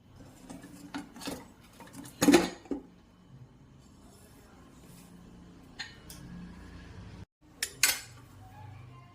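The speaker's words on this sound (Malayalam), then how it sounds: "കുക്കർ നമുക്ക് തുറന്നു നോക്കാം." Pressure cooker of chickpea curry being opened on a kitchen counter, with a sharp metallic clatter of the lid and pot, a second clank a few seconds later, and scraping and rubbing between, close and fairly loud with no talk.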